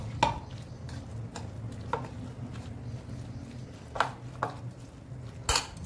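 Salad ingredients stirred into curd in a bowl: soft clicks and clinks of a spoon against the dish repeat irregularly over a low steady kitchen hum, with no talking.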